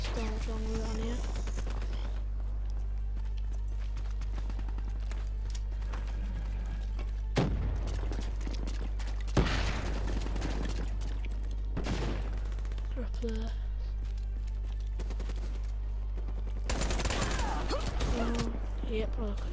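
Rapid bursts of gunfire and explosions ring out in Call of Duty Black Ops multiplayer, several sharp volleys spaced across a steady low background hum, with a person talking between them.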